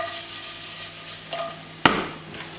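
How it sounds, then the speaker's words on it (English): Roast potatoes swirled around a hot pan, with a steady low sizzle broken by a sharp scrape or knock near the end and a brief louder frying hiss afterward. "now we swirl this whole thing around again"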